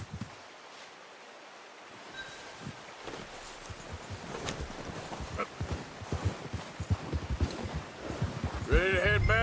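Horse hooves clip-clop in Red Dead Redemption 2, a faint, quick rhythm of soft thuds over rustling ambience that builds slightly louder, with a voice briefly joining at the end.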